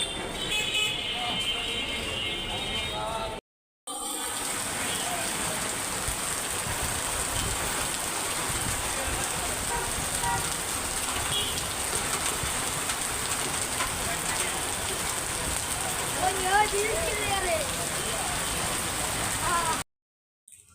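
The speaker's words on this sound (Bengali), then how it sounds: "বৃষ্টিতে ভিজে ভিজে বাসায় চলে আসলাম" Heavy outdoor rain makes a steady, dense hiss for about twenty seconds, broken by two short dropouts, with faint vehicle horns and traffic in the distance.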